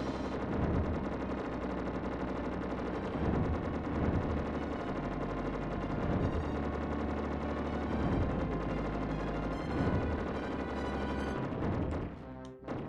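Blaster fire in the Super Star Wars: The Empire Strikes Back video game, loud and rapid repeated shots mixed with game music, keeping up without pause for about twelve seconds before a short burst of other effects.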